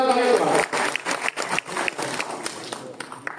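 Loud audience applause at a Marathi public gathering, dense rapid clapping from a crowd filling the moment, with a voice over it at the start.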